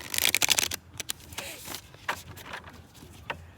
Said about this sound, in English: my shuffles are a little crazy today